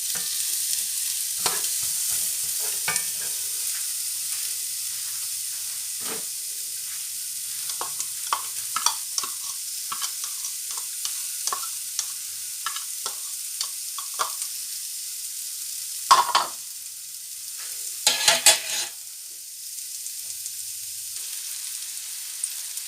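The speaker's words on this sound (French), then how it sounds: "on va faire suer l'oignon et l'ail dans l'huile d'olive pendant à peu près 2 à 3 minutes" Onion and garlic sweating in olive oil in a pan give a soft, steady sizzle, with a stirring utensil clicking and scraping now and then, louder for a moment near the end.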